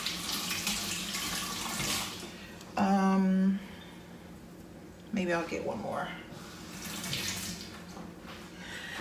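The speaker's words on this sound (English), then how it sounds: "I'm gonna cut open this bag of potatoes I got here and rinse them off" Potatoes from a bag are rinsed under a running kitchen tap, a steady wash of water flowing in a sink while a person talks over it.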